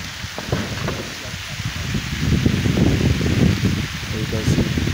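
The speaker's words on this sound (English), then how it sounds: "It's raining over here." Rain falls outdoors at a building construction site in Ghana as the wind picks up, making a steady broadband patter with scattered louder drops throughout.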